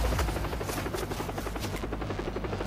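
Helicopter in the video game Far Cry 3, a steady rhythmic rotor thump with a buzzing engine whine, continuous and fairly close.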